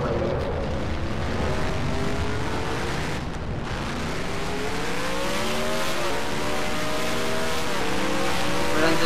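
A race car spins out during a NASCAR Racing 2003 amateur series race at Kansas, with a loud, continuous engine whine whose pitch sweeps up and down alongside squealing tires.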